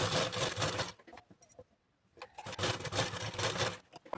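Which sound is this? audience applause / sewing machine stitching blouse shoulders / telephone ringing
sewing machine stitching blouse shoulders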